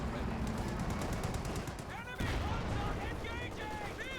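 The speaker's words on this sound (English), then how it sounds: "Machine gun there getting absolutely bloody here by the Sherman tank here" Machine gun fire rattles in rapid bursts during a Company of Heroes 2 battle near a Sherman tank, mixed with dense battle noise and whistling projectiles.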